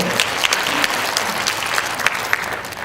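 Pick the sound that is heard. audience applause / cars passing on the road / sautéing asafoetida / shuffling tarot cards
audience applause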